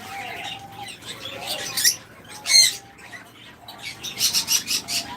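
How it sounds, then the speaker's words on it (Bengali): A flock of lovebirds and budgerigars on a bird farm keeps up busy, chattering calls, with sharp squawks and a quick run of chirps rising above the steady twitter. "আমাদের খামারে রয়েছে হিউজ পরিমাণ লাভবার্ড আমাদের কাছে রয়েছে বিভিন্ন কোয়ালিটির বাজরিগার"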